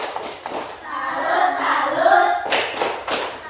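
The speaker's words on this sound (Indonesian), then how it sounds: "Tepuk salut untuk Rehan." A primary classroom gives a pupil a rhythmic clapping salute, a short burst of patterned hand claps from many children, with children's voices calling out over the clapping.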